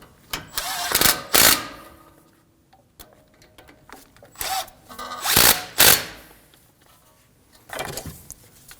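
Power tool snugging down the wheel bearing bolts on a 2016-2022 Honda Pilot, a handful of short close whirring bursts, two pairs of them, with quiet pauses between.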